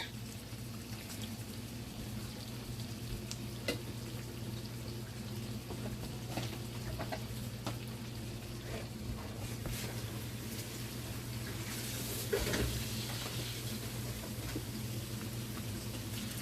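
Jerk salmon sizzles in a grill pan over medium heat, with a steady close frying hiss, a low hum beneath it and scattered pops and small clanks along the way.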